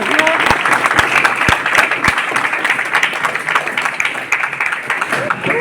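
Loud applause from an audience at a university speech event, dense continuous clapping close by with a few sharp individual claps early on, a voice faintly audible underneath.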